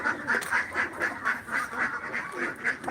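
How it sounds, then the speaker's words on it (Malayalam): A steady run of duck quacks, about a dozen in quick even rhythm, fairly loud and close, with no voices. "നമ്മളെ താറാവ് കൂടുന്നുണ്ട്"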